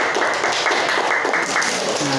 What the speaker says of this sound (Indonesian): Sekali lagi tepuk tangan untuk kawannya.